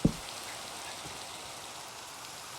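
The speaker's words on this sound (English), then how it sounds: "Wait, do you, or is that just the rain?" Constant rainfall in the video game Minecraft with a soft, even patter of drops, opening with a brief low thump.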